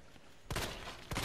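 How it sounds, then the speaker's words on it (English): A flashbang grenade goes off in Resident Evil 2 as two sharp broadband bursts, the first at about half a second ringing on, the second shorter near the end, over a faint game background. "Flashbang, bitch."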